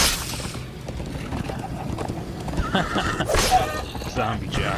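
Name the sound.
horse neighing in Minecraft Story Mode video game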